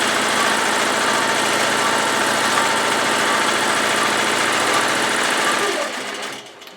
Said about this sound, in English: now it's going to sew down the bottom